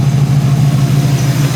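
A 1978 Chevy Malibu Classic with dual exhaust idles steadily, its low, even engine rumble loud and close, with no voices over it.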